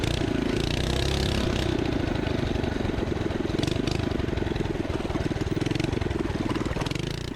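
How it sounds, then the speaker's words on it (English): The small engine of a stage 1 Coleman minibike with a stock carb buzzes hard as it climbs a steep, rocky uphill trail. The sound is loud, close and continuous, with slight rises and dips in pitch. "It may be a tiny machine with a tiny engine, but as you can tell, this thing climbs"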